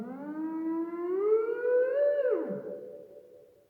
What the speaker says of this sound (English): I've got my homemade Theremin